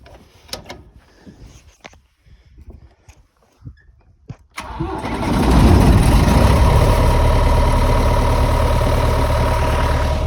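A John Deere 1133 combine harvester engine cranks and catches after a few quiet clunks and knocks, then roars up to a loud, steady high-revving run that fills the rest of the clip close by.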